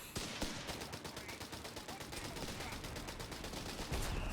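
Rapid gunfire in Company of Heroes 3, a dense stream of fast repeated shots like machine-gun bursts, heard fairly quietly and with no talk.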